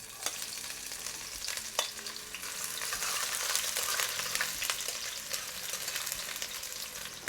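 Onion sizzling in a hot pot while cooking curry potato in a Trinidad kitchen, a steady bright crackle that swells and stays loud, punctuated by sharp clicks of stirring against the pot.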